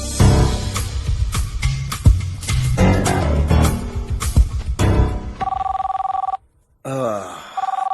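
A telephone rings with an incoming international call from India, its repeating electronic tone steady and clear after a burst of loud music and effects, broken by a brief silence before ringing resumes.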